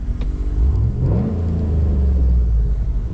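A deep exhaust rumble from a modified 2008 GMC Yukon Denali engine, steady and close, with a rising rev as the motor accelerates partway through.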